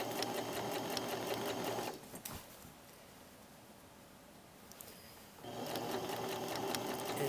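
A sewing machine runs steadily as it stitches a curved skirt seam at a 5/8 allowance, whirring loudly, pausing for a few seconds, then starting up again.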